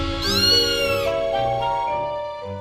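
A cartoon cat meows in a long, loud, wavering yowl over a musical background, with no talk.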